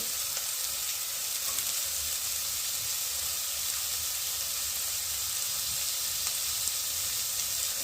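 Shredded cabbage, beans and carrot sautéing in a hot pan for vegetable momo filling, a continuous close sizzle and hiss with faint stirring scrapes, no voices.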